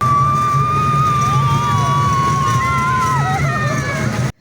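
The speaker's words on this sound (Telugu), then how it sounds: "ఫుల్గా అరుపులు కేకలు." Crowd shouting and screaming on a train ride at a Bengal mela fair: loud, continuous, wavering cries and shrieks over a dense roar of people and machinery, cutting off abruptly at the end.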